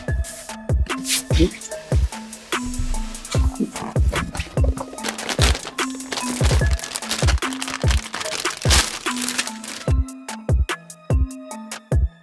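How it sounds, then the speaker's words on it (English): Packaging around a Tough Gaming RTX 5070 Ti graphics card crinkles and crackles up close, with steady rustling plastic and cardboard punctuated by sharp snaps and knocks, continuous and fairly loud without speech. "I'm gonna need the graphics card as well, so we'll go ahead and unbox that one too"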